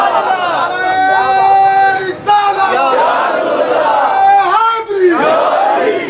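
A large crowd at an Islamic sermon chants religious slogans in loud unison, rising and falling in repeated rhythmic call-and-response waves that fill the space up close.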